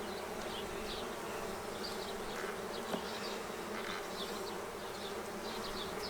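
Honey bees in a hive drone steadily and loudly, a dense, continuous buzz with individual insects flying close by, with no voices.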